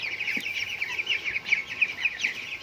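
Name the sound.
chickens clucking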